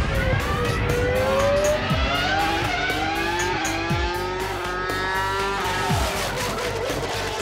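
Ferrari Formula 1 car lapping the Fiorano circuit at full power, its high engine whine rising and falling steadily through gear changes, loud and continuous, with several low passing sweeps.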